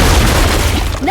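A frag grenade in Gears 5 bursts inside a nest with a loud, heavy boom, and a deep rumble fills the whole brief moment before easing slightly at the very end.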